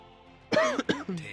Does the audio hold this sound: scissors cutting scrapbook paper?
no